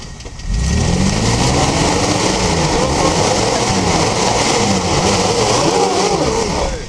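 A car engine revs steadily and close by during slow parking maneuvers, a continuous throaty drone holding for about six seconds with no voices heard.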